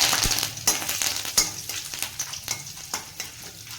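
Curry leaves frying in hot oil in a home kitchen pan, a steady hiss of sizzling broken by sharp spatters and a series of metallic stirring clinks at irregular intervals, close and fairly soft.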